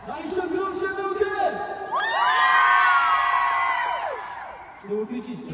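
A large crowd at a Khabib event in Yakutsk shouts and cheers, with rising whoops and sustained wailing voices swelling to a loud peak, then fading back into scattered shouting.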